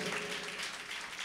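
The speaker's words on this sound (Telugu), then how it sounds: "ఒకసారి చప్పట్లు కొడదాం" A church congregation applauds together, a steady wash of many hands clapping that fills the space evenly and stays at a moderate level without talk.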